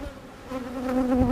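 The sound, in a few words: honeybees buzzing around an open hive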